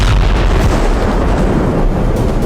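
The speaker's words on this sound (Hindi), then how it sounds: "चंद सेकंड बाद एक जोरदार धमाका हुआ" A guided missile strike on a Ukrainian ammunition depot in the Artemivsk area sets off a loud, sustained explosion: a dense, roaring boom that rumbles continuously for a couple of seconds without letting up.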